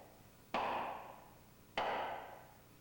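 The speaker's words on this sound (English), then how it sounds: "hit it with a hammer to draw out the gearbox" Two sharp hammer blows strike a wooden block held against the friction pulley on a purifier's horizontal gearbox shaft, each a crisp woody knock with a short ringing decay, spaced about a second apart in an otherwise quiet room.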